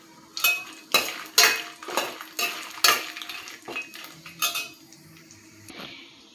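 Dried red chillies, coconut pieces and cumin frying in a pan, with a metal spatula scraping and clanking against it in a steady rhythm of about eight strokes over a soft sizzle.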